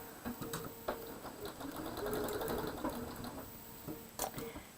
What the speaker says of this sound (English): So again, I'm going to simply sew down that line.